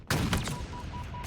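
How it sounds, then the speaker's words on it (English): Gunfire coming through a wall in the shooter Halo Infinite: a rapid, harsh burst of shots rattles loudly at close range, then thins out, with a final crack at the end. "I'm getting shot through a wall"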